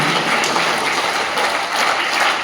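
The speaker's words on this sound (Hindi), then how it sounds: "इस नवगठित बॉडी के सभी सदस्यों का जोरदार तालियों की गड़गड़ाहट से स्वागत करें" Hearty applause from an audience at a railway staff association divisional meeting in Jodhpur, welcoming newly formed committee members; dense, continuous clapping fills the whole stretch at steady loudness without talk.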